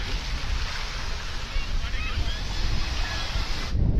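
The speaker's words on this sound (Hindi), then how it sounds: "बहुत तेज लहरें आ रही है।" Strong ocean waves surging at Dhanushkodi at India's southern tip, a steady loud roar of surf mixed with heavy wind buffeting the microphone, continuous throughout.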